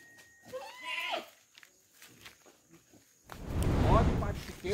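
A billy goat on a farm, tethered to a stake to stop it jumping the fence, gives a couple of close bleats early on, followed by footsteps, faint voices and a burst of louder rustling noise.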